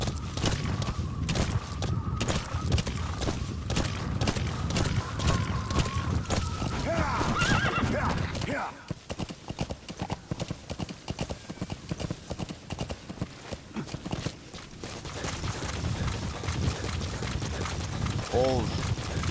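Horse hooves clip-clop rhythmically in Metal Gear Solid V: The Phantom Pain, with a whinny near the start. Someone talks over the galloping, the hooves briefly pause, then the steady trotting resumes.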